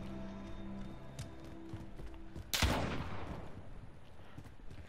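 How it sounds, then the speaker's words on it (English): Shotgun fire in Call of Duty Modern Warfare, a 2v2 match: one loud, close blast with a sharp crack and a decaying tail, set over steady game ambience and faint background clatter. "Another shotgun, isn't it?"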